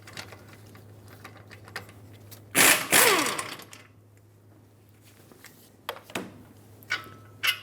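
A socket ratchet works a caliper bracket bolt on a 2003-2009 Dodge Ram 2500, a loud close burst of mechanical whirring and clicking midway, followed by a few scattered metallic clicks and knocks.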